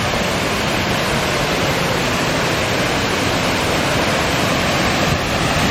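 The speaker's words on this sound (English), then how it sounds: "Welcome to one of the waterfalls in Northwest Montana." Martin Falls, a hidden waterfall in Northwest Montana, roars as a loud, constant wash of rushing water, close and unbroken, with no voices.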